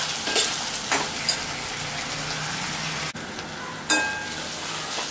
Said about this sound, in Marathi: ते परतून घेतोय आपण वाटण थोडं